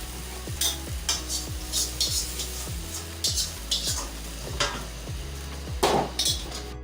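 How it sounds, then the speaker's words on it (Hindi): Fried chicken is stirred into lentils in a pot, a spoon scraping and knocking against the metal in a rhythmic series of strokes over a low background sizzle, close and with no talking. "अब इसको दाल में कर देते हैं मिक्स।"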